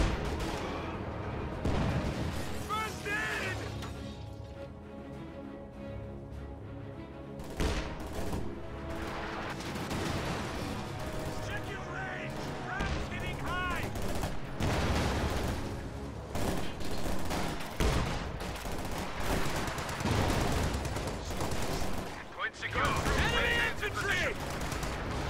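A war strategy video game battle with a Jagdtiger and Volksgrenadiers fills the air with repeated artillery booms and bursts of gunfire, dense and continuous, while a commentator talks over the combat throughout.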